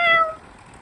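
A voice imitates a cat's meow, a single short, tonal call with clear harmonics that fades quickly, close and alone.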